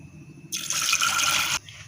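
About a glass of water is poured into a pressure cooker holding peas. It makes a single close, splashing gush of roughly one second, then falls quiet.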